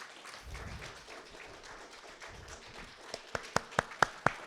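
A small audience at closing remarks of an academic event starts to clap. A handful of sharp, distinct claps come one after another near the end over a quiet room, faint and sparse rather than full applause.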